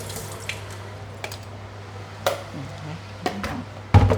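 Cabbage being rinsed under a kitchen tap produces scattered drips and small water splashes over a low, steady hum, fairly quiet, ending in a louder splash.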